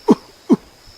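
Two short, sharp coughs or throat-clearing bursts about half a second apart, close and fairly loud, then quiet.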